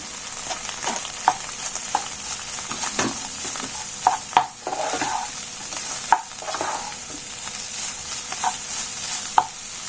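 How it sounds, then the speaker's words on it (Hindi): Fagadi (fig) for a traditional Himachali dish frying in a pan over a low gas flame while being stirred, with a steady close sizzle broken by sharp scraping and tapping clicks from the spoon. "फिर इसको हम भूनने देंगे, गैस की फ्लेम लो कर देंगे। अब डाल देंगे हम इसमें फेगड़ी।"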